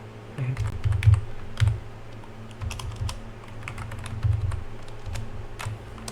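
Someone types code on a computer keyboard while working in the SciTE editor, producing close, irregular clusters of key clicks with short pauses between bursts and no voices.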